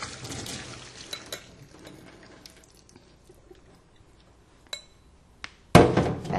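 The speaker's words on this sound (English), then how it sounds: "So I'm going to just strain this." Blanched almonds are strained out of boiling water in a kitchen, with scattered clinks and taps of a metal pot and strainer, a quiet stretch, then a loud splashing pour near the end.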